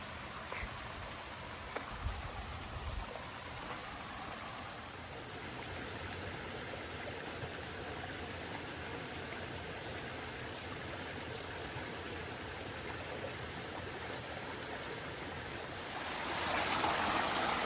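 A clear jungle stream flows steadily near a waterfall, a soft, even rush of water with a faint high hiss throughout that grows louder and brighter near the end.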